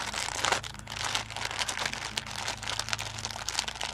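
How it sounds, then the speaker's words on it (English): Plastic packaging crinkling and rustling as a Marie Antoinette doll kit is unwrapped, irregular crackly bursts close to the microphone throughout, with no voices. "Sorry for the crinkling, guys."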